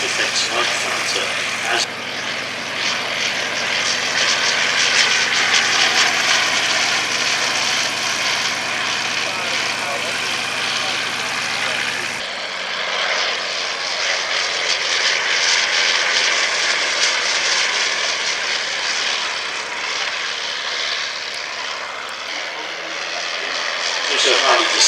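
A Shuttleworth Collection Avro 504K biplane flies at an airshow, its engine giving a loud, steady, broad drone that carries on throughout and swells and eases slightly as it passes.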